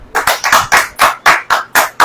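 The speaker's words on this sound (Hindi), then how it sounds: "ताली बजाइए" A church audience clapping in a steady rhythm, about eight loud, close, evenly spaced beats at a quick tempo.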